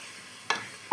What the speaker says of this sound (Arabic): والدقيق اصفر خلاص بنحط عليه اللبن اهو وبنقلب بسرعه بسرعه بسرعه